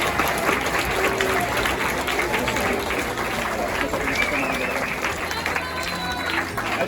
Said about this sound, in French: Déjà, on peut les applaudir déjà.